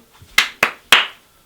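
A single person clapping hands three times, sharp close slaps spaced irregularly and fading quickly, indoors in an old house.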